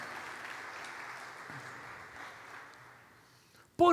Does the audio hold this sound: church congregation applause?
yes